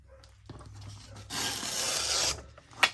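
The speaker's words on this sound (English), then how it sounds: "My paper's not wanting to tear." Paper tears along the edge of a ruler during junk journal crafting, a few brief scrapes followed by one longer rasping rip and a sharp final snap, close and alone.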